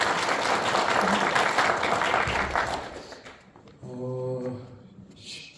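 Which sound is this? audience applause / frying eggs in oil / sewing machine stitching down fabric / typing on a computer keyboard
audience applause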